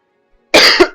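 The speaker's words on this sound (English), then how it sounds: "I need to cough." A single loud, close cough bursts out after a half-second of silence, with a short second hack right behind it, during a Cities: Skylines gameplay session.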